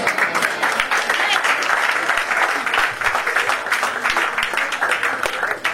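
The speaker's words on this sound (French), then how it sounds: "S'il vous plaît, encore des applaudissements, c'est des bénédictions, c'est gratuit." Wedding guests at a ceremony in Villiers-le-Bel, France, clap together in a steady, dense round of applause, with voices and crowd murmur mixed in throughout.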